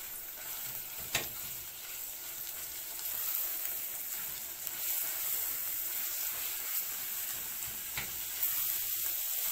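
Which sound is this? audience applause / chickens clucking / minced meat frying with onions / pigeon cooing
minced meat frying with onions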